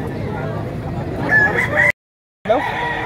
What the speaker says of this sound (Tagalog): Laking manok ito